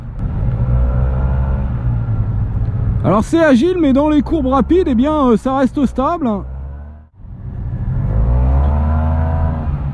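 A 2017 Yamaha T-Max 530 maxi-scooter cruising on an urban expressway: a steady engine drone and wind rush sit close to the microphone, dropping behind a man's speech in the middle and returning clearly afterwards.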